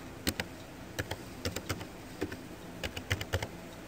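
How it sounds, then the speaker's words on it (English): Typing on a computer keyboard while entering a number, a run of crisp, close keystrokes in irregular bursts, with no voices. "And you'll start here with typing in a number."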